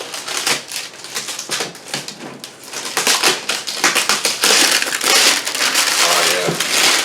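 A child tears open the cardboard and plastic packaging of a Traxxas Slash XL-5 2wd RC truck, a loud close run of rips, crinkles and crunches that grows denser and harsher toward the end.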